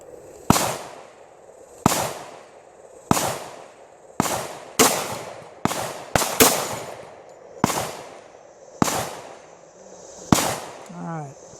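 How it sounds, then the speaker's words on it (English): A .45 ACP pistol loaded with shotshell powder fires about ten sharp shots outdoors, spaced roughly a second apart, each loud crack trailing off in a short echo. "Okay, I dropped two somehow, so I'm going to shoot them"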